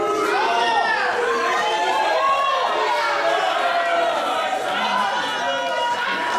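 A loud, dense crowd at a GWF Unleashed wrestling show in Berlin during a title match, with steady chatter, shouting and cheering filling the hall throughout and overlapping voices close by.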